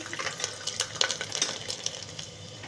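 Garlic cloves dropped into hot oil with cumin in a pan for a Kathiyawadi eggplant and potato curry, crackling and spitting in quick, uneven pops at close range, fairly soft, with no talking.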